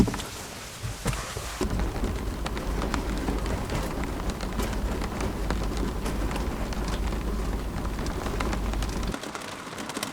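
Heavy rain during a typhoon at night in Tokyo, a dense, roaring downpour drumming on surfaces with a deep low rumble, swelling suddenly after a brief quieter start and cutting back near the end.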